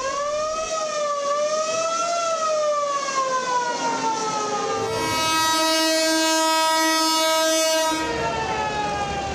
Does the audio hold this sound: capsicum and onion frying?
no